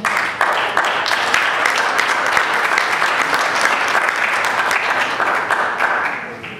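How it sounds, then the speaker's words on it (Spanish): A church congregation applauds together in steady, dense clapping that holds for several seconds and then thins slightly toward the end. "Así que vamos a darle un aplauso al Señor."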